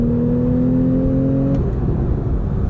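A Porsche engine pulls hard under acceleration from inside the cabin, a steady loud drone with rising tonal whine that drops away as the revs fall or the car shifts.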